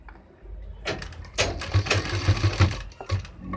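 A sewing machine stitching the hem of a kurta, short bursts of fast mechanical whirring and rhythmic needle clatter, close and fairly loud, with brief pauses between runs.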